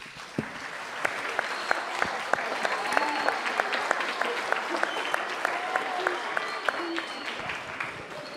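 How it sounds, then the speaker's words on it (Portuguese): An audience applauds at a Father's Day cultural event in Lourinhã, a loud sustained wave of clapping with sharp individual claps standing out and a few voices calling over it. "Uma salva de palmas para vocês."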